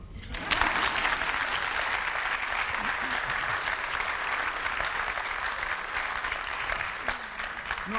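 An audience applauds at the end of a sung Sephardic romance tale, a dense, even roar of clapping from many people that carries on for several seconds.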